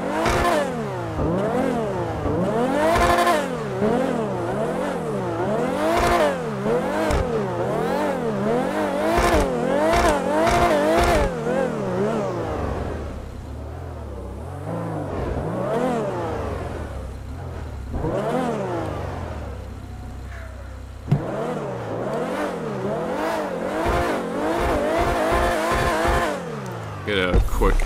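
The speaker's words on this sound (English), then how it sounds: "We'll try and get a good exhaust clip here for you guys." Sports car exhaust in GTA 5 Online, revved repeatedly in sharp, loud rising and falling bursts, with a brief quieter idle stretch midway before the revving resumes close and strong.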